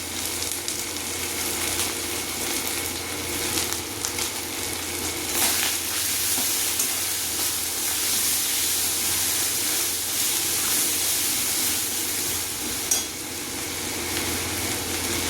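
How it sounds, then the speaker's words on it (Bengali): Spices frying in a pan with turmeric and salt for a dal made with fish head, a steady close sizzle and hiss that continues evenly throughout with occasional light stirring scrapes. "মশলাটা ভাজা হয়ে গেছে"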